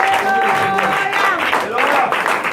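A church congregation claps and cheers together in a steady, loud burst of praise, with voices mingling throughout the applause.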